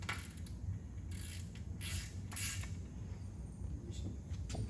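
A ratchet with an 8mm Allen socket works on a Suzuki outboard motor during an oil change, giving a few brief clicking bursts over quiet background noise.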